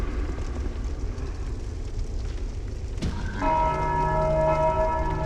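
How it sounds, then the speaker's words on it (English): A bell rings in the Dark Souls II video game. A sudden struck onset is followed by a sustained tone with steady harmonic overtones, rising above a continuous low rumbling ambience. "It would have rung the bell."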